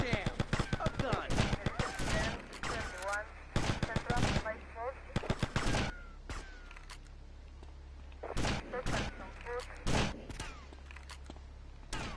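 Gunfire in GTA Vice City: rapid bursts of automatic fire and single shots, loud and close, coming in clusters separated by short pauses, with someone talking at times.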